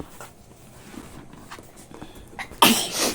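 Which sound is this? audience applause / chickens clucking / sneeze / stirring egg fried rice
sneeze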